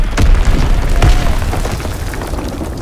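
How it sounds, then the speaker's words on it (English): Enemy bomb exploding in a video game, heard as heavy, loud booming blasts with deep low rumble, one hit early and another near the middle, trailing into a sustained roar of battle noise. "Enemy bomb incoming! Get to cover!"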